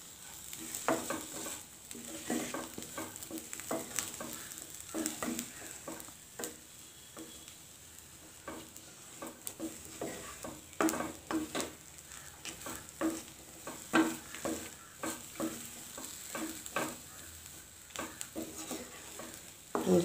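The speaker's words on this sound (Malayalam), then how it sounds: "ഇനി എല്ലാ വശവും ഒന്ന് ഇളക്കി കൊടുക്കാം" A spoon scrapes and stirs Mexican spinach and lentil thoran in a pan, with repeated close stirring strokes and a light sizzle running underneath throughout.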